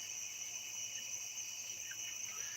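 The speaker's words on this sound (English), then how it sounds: "The night crickets and tree frogs sound beautiful." Night crickets and tree frogs keep up a steady, continuous high-pitched trill outdoors, faint and even throughout, with no voices.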